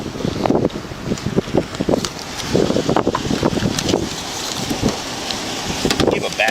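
Strong gusting wind buffets an outdoor microphone during a roadside arrest, a steady loud roar with rumbling bursts throughout, while voices talk faintly beneath it.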